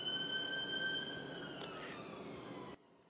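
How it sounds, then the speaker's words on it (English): Emergency siren passing outside a window, a faint wailing tone sliding in pitch over a steady rumble of traffic, fading as it goes by before the sound cuts off abruptly. "You may have picked up the sound of that siren going past my window."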